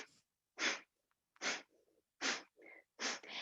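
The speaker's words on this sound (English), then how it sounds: "breath of fire is sharp, forceful exhales through the nose" Four sharp, forceful nasal exhales, breath of fire, each a short broadband burst about a second apart, close and loud, with faint quieter inhales between them.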